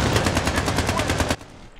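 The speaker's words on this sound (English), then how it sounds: "Are you shooting at us?" Rapid automatic gunfire in Battlefield 3, Rush mode on the Noshahr Canal map: a close, loud burst of evenly spaced shots runs for just over a second, then cuts off into quieter background noise.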